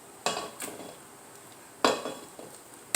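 Meat for osso buco is dropped into a pot, giving a few distinct clattering thuds and utensil clinks spaced apart over a soft background sizzle.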